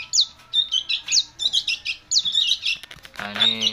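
A caged sooty-headed bulbul chirps in quick, bright repeated phrases close to the microphone, with a brief burst of other sound near the end.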